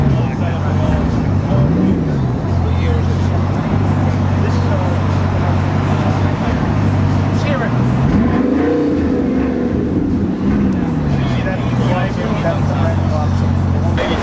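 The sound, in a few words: W16 quad turbo supercar engine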